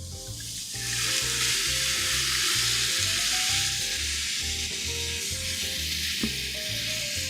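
Rabbit with chorizo and thyme sizzles loudly and steadily in a hot pan, a dense crackling fry from rendered pork fat, close and continuous with stirring.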